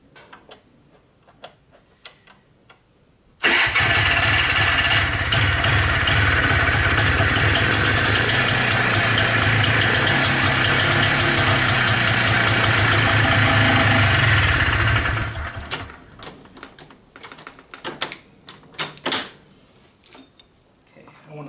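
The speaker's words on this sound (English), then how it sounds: "I'm going to try to give it a start. Let's see what happens." A Polaris Xplorer 250 ATV engine fires up after a carburetor cleaning. It roars loudly and steadily for about twelve seconds, then cuts off, with quieter clicks and handling noise before and after.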